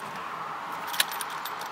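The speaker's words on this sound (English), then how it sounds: "Oh, also, there's 2 keys." Car keys for a 2000 GMC Sierra pickup jangle briefly in a quiet setting, a short metallic rattle peaking once near the middle with a few faint clinks after.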